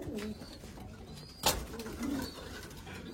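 Pigeons coo softly in a loft, low murmuring calls repeating quietly, with a brief rustle or flap of movement partway through.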